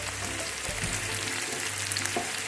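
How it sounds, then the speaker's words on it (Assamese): Olives for a pickle fry in a pan with a steady, dense sizzle and crackle that carries on unbroken for a couple of seconds. "ভাজি থাকিব লাগিব ইয়াতে"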